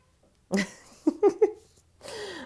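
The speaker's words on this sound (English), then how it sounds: "I have 2 6-month-old kittens. They're dying for my attention." Two six-month-old kittens meow close by in a few short, separate cries in a row, with a softer bit of sound trailing at the end in an otherwise quiet room.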